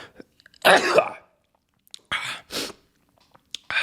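A single sharp sneeze bursts out in a quiet room, followed by short breathy sounds and a few faint murmurs.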